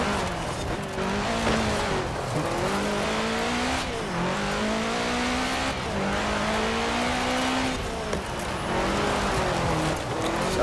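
Race cars roar through a Forza Horizon 4 video game race, engines revving steadily and shifting pitch as they accelerate, a loud continuous drone with tire noise running throughout.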